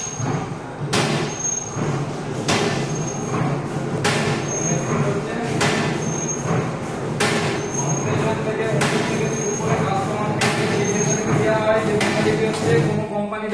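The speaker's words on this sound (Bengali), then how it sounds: "মেশিন চলছে।" A batasha sugar-candy making machine runs nearby with a loud continuous mechanical rumble, cut by sharp periodic clanks roughly every second and a half, each with a faint high ring.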